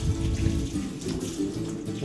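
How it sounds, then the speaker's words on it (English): Water flows steadily from a tap onto a towel being soaked for sprouting dry beans, a continuous close splashing rush with no talk. "Now I take the towel and I soak it up with water"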